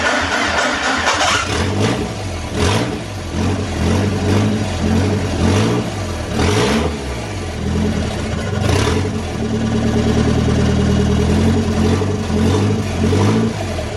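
An Audi 2.0 TFSI engine swapped into a Peugeot 306 runs loud and close, its idle lumpy and uneven with repeated revs rising and falling throughout.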